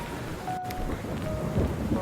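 Rain falls steadily outdoors near a mall, a soft broadband hiss with scattered patters and a faint low rumble beneath, continuous and fairly quiet.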